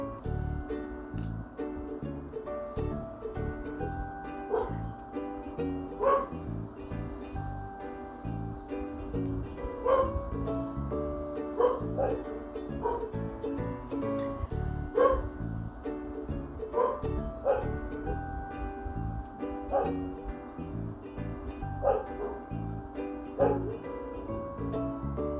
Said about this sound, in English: Now the other dog wants to bark too. All the dogs want to bark.